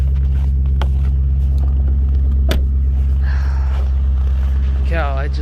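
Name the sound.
car engine idling while warming up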